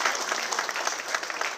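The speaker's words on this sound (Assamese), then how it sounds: "আমি তেখেতৰ কাৰণে জোৰদাৰ হাত চাপৰি বজাবলৈ সকলোকে অনুৰোধ জনাইছোঁ" An audience at a felicitation ceremony for newly elected legislators at a state BJP office claps together in dense, steady applause, close and sustained with no pauses.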